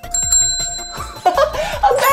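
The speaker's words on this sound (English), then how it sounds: "A bell! Listen." A small bell rings out clearly at an aquarium with bright repeated dings, and a voice and light laughter join in toward the end.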